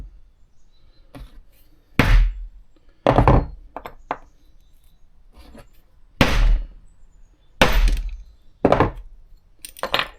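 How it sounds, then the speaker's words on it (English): Sharp metallic taps from a hammer on a damaged Chevy key fob at irregular intervals, several single strikes and a few quick pairs, close by with quiet gaps between them. "We should be able to just tap that with a hammer."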